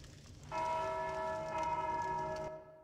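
A bell in Dark Souls 2 rings out once with a clear metallic strike, then sustains a bright humming tone for about two seconds before fading, over faint background noise.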